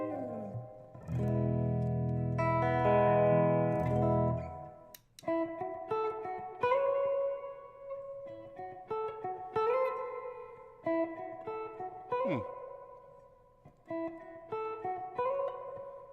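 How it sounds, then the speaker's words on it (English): Plucked electric guitar notes and chords through a SolidGoldFX Surf Rider spring reverb pedal ring out with a splashy, echoing tail, a strummed chord first, then sparse single notes, alone and close. "I think it's just straight, spring style reverb."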